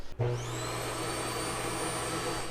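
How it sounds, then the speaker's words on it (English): A central vacuum system in a dual-axle travel trailer camper switches on with a thump and settles into a steady, loud motor whine with a high-pitched hum, running continuously on its own without any voices. "it has a central vac system, so you can hook up a hose and vacuum all around in here"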